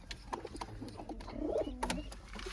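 Pet pigeon in a breeding loft, reportedly sick from the cold, giving a few soft, low coos close by amid faint rustling and background noise.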